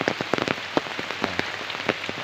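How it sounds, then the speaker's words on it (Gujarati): Heavy rain pours steadily, with dense patter and scattered louder drops striking a nearby surface throughout. "જો કેટલો બધો વરસાદ પડે છે"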